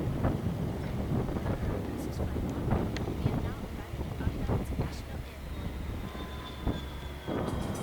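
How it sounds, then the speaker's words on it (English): Breeze rumbles and buffets the microphone at an airport construction site, a steady low roar with gusty swells throughout. "right where I'm at here, is kind of breezy"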